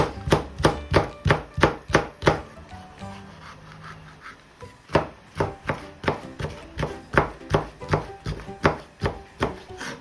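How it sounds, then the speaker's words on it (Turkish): A knife chops peppers rapidly on a cutting board in quick bursts of sharp, even taps, pausing briefly midway before resuming the steady rhythm, close and clear. "Biberlerimizin hızlıca sap kısımlarını temizledikten sonra ince ince kıyıyoruz"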